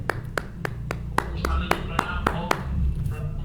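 Online yoga session participants clap to greet the Swami, giving a string of about a dozen sharp, fairly regular claps over a steady low hum, moderately loud and close.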